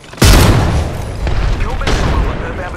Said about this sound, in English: Grenade, heads up